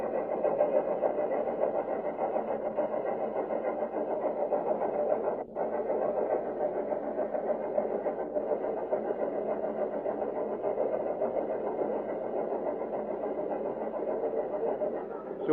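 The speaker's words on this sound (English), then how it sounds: "You hear that we are quite near the engine." Steam locomotive working nearby on the Swansea Victoria line, a steady, continuous mechanical rumble and hiss holding at an even level throughout, close and unbroken apart from one brief dip.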